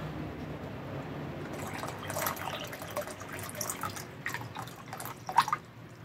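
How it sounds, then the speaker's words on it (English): Cold water trickles and splashes into a bowl of flour for bao dough, a faint close pour with scattered drips and small splashes. "Add some cold water here."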